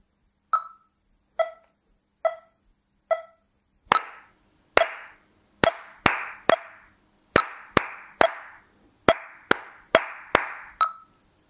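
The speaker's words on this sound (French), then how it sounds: "on va cette fois-ci seulement frapper le rythme dans les mains" Hands clapping out a rhythm, about sixteen sharp claps alone with no other sound: spaced evenly at first, then quicker in uneven groups, close and clear.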